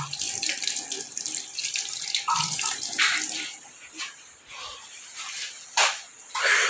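Water pours steadily from a 1.3 hp electric water pump with a 21-gallon pressure tank in Cotmon, Camalig, Albay, a loud continuous gushing splash with faint voices in the background.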